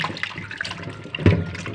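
Water splashes and trickles in quick, uneven bursts as fresh fish are washed by hand with salt, close and fairly loud with no talking.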